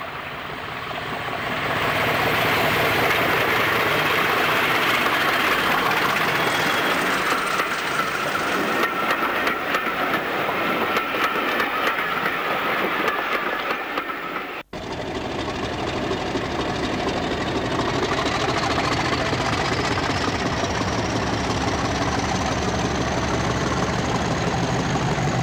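A preserved diesel locomotive on a Cornish line running with a loud, steady engine rumble and clatter that continues the whole time, broken by a brief cut midway and no talk.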